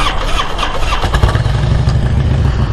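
A used 2005 Harley-Davidson Road King bagger starts up about a second in, its V-twin engine catching and settling into a loud, close, steady rumbling idle that fills the whole clip, with no talk.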